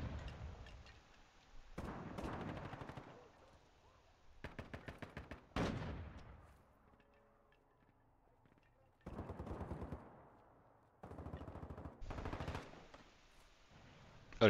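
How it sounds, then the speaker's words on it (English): Bursts of gunfire in a Call of Duty DMZ match, with several volleys of rapid automatic shots and single cracks separated by quieter gaps, some close and loud, others more distant. "Who are they shooting at?"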